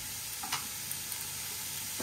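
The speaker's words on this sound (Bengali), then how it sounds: "এবারে লবণ মিষ্টি চেরা কাঁচা লঙ্কা দিয়ে নাড়িয়ে চাড়িয়ে নামিয়ে ফেলবো, হয়ে যাবে বরবটি ভাজা।" Thinly cut yardlong beans stir-frying in a little oil with slit green chili, salt and sugar. A dense, even sizzle runs throughout, broken by a couple of brief stirring scrapes close by.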